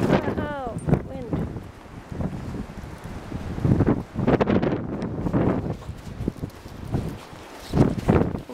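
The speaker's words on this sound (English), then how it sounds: "Oh, wind." Wind gusting hard during a 2010 winter storm in Digby, Nova Scotia, roaring and buffeting the microphone in loud surges, with a person talking and a brief animal cry near the start.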